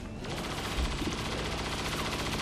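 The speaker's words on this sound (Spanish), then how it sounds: "Si se mueve, le disparamos." Gunfire in the turn-based strategy game XCOM 2, a dense rattling burst of rapid shots that fills the whole moment at close, loud level with no talk over it.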